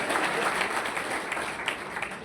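A crowd applauds to welcome Rajasthan's chief minister Bhajan Lal at a public gathering, a steady dense patter of clapping lasting throughout.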